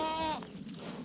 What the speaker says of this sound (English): A herd of very friendly goats on a Montana farm in the beautiful countryside within sight of the Rocky Mountains outside Conrad, Montana